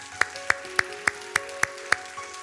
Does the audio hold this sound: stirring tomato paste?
no